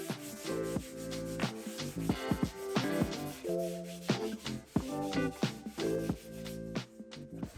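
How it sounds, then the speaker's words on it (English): Medium grit sandpaper is rubbed by hand over a wooden table's shiny factory finish, giving repeated scratchy back-and-forth strokes in an uneven rhythm, close and fairly loud, with no voices. "it can be just as easy to rub it down with some medium grit sandpaper by hand"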